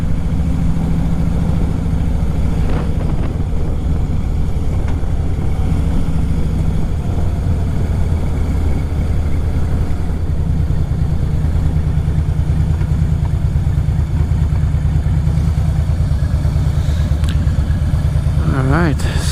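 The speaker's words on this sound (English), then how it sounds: "the bike is still maybe a little bit too loud for Japanese standards" A loud modified motorcycle engine drones steadily while riding on the road in Japan, a constant low rumble with wind noise throughout and a rider's voice talking over it.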